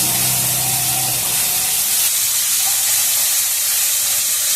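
Tomatoes sizzle and hiss in a frying pan with turmeric and ginger, a loud, steady, spraying frizzle that continues unbroken throughout.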